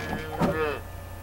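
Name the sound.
cow mooing in Barnyard video game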